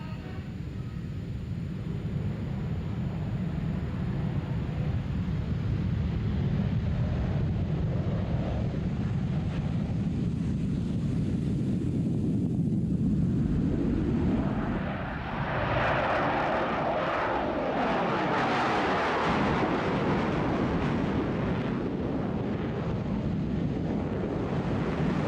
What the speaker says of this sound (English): the leader, Lieutenant Colonel Bob Doling, will be doing a high-performance takeoff